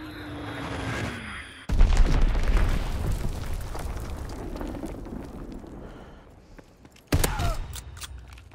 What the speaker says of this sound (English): Fritz X bomb mission underway.